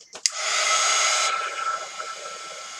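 A hair dryer drying alcohol ink on a domino: a click, then a steady loud close airy whoosh that drops in pitch and softens after about a second as it keeps blowing.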